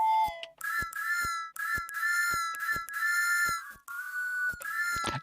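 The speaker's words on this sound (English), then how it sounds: "It says police whistle" A synthesizer police whistle preset plays as a series of bright, shrill tonal whistle notes, some held and some cut short, at varying pitches, loud and alone.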